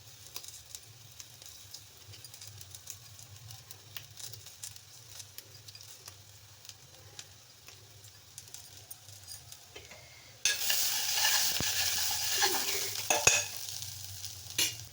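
Three chillies frying in oil for tempering make a soft crackle and stirring patter that jumps to a louder, hissing sizzle partway through, close and without talk.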